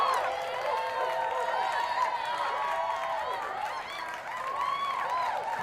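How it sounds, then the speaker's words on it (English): A crowd applauding and cheering in one steady, dense round of clapping that carries on without a break, loud and constant throughout. "Hopefully you heard that round of applause."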